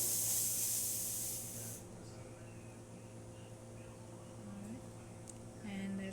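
The steam wand of a La Pavoni Stradivari espresso machine lets out a loud, close hiss that cuts off abruptly after under two seconds, leaving a low hum and faint clicks.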